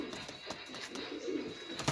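Soft cooing from a high flyer pigeon in a quiet space, low murmuring calls repeating steadily over faint background noise.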